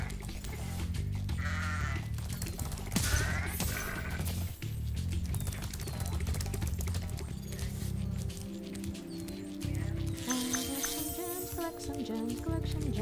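Sheep bleating in the video game Spyro Reignited Trilogy, several wavering bleats over a continuous backdrop of game music and ambience, with a brief burst of louder effects partway through.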